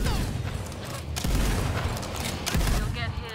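A placed turret in a wacky first-person shooter game fires repeated loud blasts and booms, forming a continuous barrage with people talking over it.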